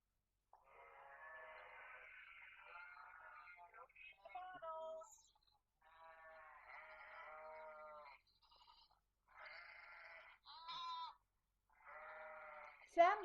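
Repeated wavering bleats from a goat, several separate calls with short silences between them, fairly close and clear against a quiet background.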